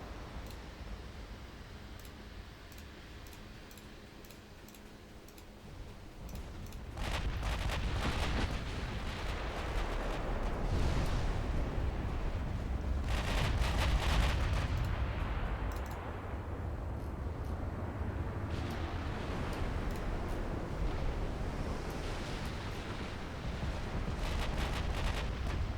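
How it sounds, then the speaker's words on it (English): The battleship Shinano fires its big guns during a naval battle game, giving heavy rumbling booms that swell into a sustained, roaring barrage with crackling bursts, loud and continuous for most of the stretch. "Shinano firing in the background."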